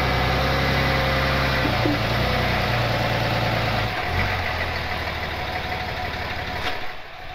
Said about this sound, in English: now we gotta pull it up onto the ramps